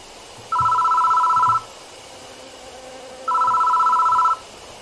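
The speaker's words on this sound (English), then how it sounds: "The phone is ringing." Telephone ringing in the horror video game Death Mark: two long electronic rings about a second each, separated by a pause, loud and clear over a low ambient drone.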